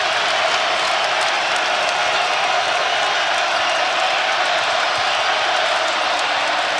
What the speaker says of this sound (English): the crowd is roaring